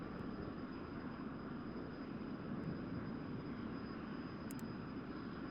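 An F-100D jet in flight in the DCS flight simulator game gives a steady, faint broadband engine roar with a thin high tone running through it, constant throughout.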